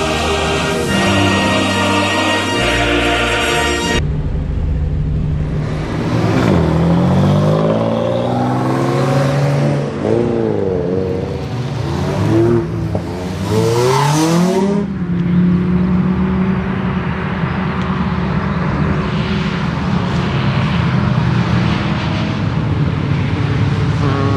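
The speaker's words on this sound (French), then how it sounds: "Vincent, on est dans ta Caterham. C'est ça, ouais, une MK Indy RR exactement." A Caterham Indy RR sports car engine revs hard and accelerates, climbing through several gears with sharp rising whines and shifts, loud and close throughout.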